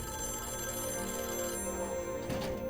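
A telephone bell rings steadily at moderate loudness during a tense scene in the Loki season 2 premiere, with a dense score around it.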